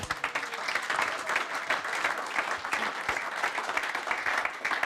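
Steady applause from an indoor audience, dense clapping that continues throughout without pause.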